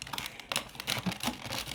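Plastic packaging for an electric toothbrush cover cap being pulled open, a quiet, close series of irregular crinkles, rips and crackles with no talking.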